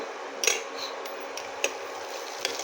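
A vermicelli semai snack is stirred in a pan, heard as a few scattered metallic scrapes and clinks of a spoon against the pan over a low, steady background, close and fairly quiet.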